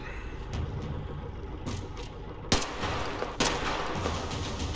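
Gunfire in the post-apocalyptic shooter Metro Exodus, a few sharp loud shots over a steady rumbling background, with one especially strong crack midway and another shortly after.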